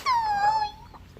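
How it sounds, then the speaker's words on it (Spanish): A small dog lets out a single drawn-out, high whimper that slides gently downward and fades, close by over a quiet background. "Aquí está mi perrito."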